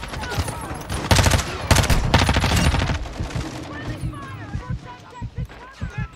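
Call of Duty: Modern Warfare gunfire on the Shipment map, with loud rapid automatic bursts early on, then scattered shots thinning out while someone talks over the game.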